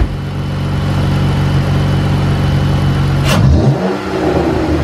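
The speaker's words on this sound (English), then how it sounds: "Rev it up!" A 2015 Chrysler 200 3.6L engine with a ported 80mm throttle body idles loudly up close, then revs sharply once, the pitch rising and falling away.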